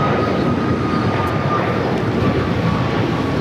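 An airliner taking off from runway 25 right at LAX, a steady broad engine roar holding loud and even throughout, heard from a distance with no voices.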